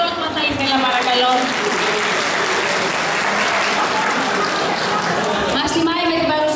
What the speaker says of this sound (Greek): Μεγάλο χειροκρότημα θα ήθελα, παρακαλώ.